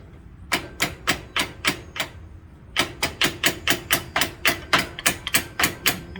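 Repeated hammer blows on a metal ram part from a Ford tractor during a rebuild, sharp evenly spaced strikes in two bursts with a short pause between, close and loud.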